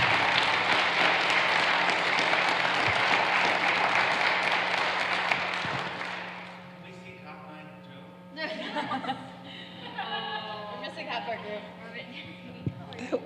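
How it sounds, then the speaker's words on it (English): A roomful of people at a Manchester University students' combined class about a Kenya trip claps in a dense, steady burst for about six seconds, then the applause dies away into scattered chuckles and people talking. "Let's give him a round of applause."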